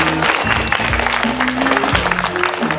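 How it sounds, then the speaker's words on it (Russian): Loud, steady applause for the winners of a 1996 Russian TV quiz tournament, dense clapping filling the room throughout, with a voice audible beneath it. "Бурные аплодисменты победителям."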